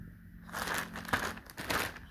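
Plastic packaging bags crinkling on a chair, two bursts of crisp rustling and crackling close by, the second slightly louder, with no voices.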